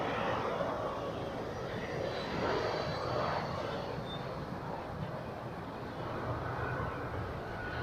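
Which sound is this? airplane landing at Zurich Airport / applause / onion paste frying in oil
airplane landing at Zurich Airport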